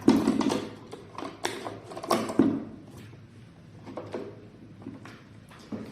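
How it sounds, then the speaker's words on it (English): Printer cover of a Contec ECG machine being shut and locked over thermal paper, a series of close plastic clicks and snaps, some sharp and some softer, with quiet gaps between them. "So I'm just locking the printer section."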